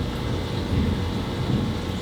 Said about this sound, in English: That is a lot of thunder happening.